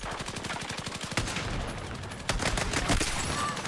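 Rapid automatic gunfire from a weapon in a first-person shooter game, with steady bursts of close, punchy shots repeating in quick rhythm, briefly pausing, then resuming.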